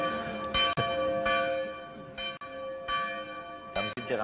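Church bells ring loud and close in steady repeated strikes with long ringing overtones, with people talking faintly beneath them.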